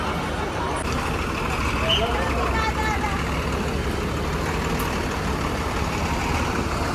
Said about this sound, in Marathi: आपली लालपरी रत्नागिरी ते तुळजापूर रत्नागिरी बसस्थानकातून मार्गस्थ झाली आहे